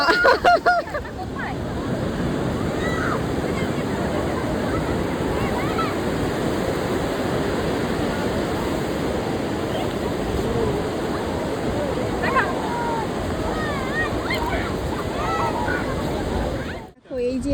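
Sea waves wash continuously onto a crowded Indian beach at Digha, a loud broadband roar of surf with wind buffeting the microphone throughout, ending in a short handling noise.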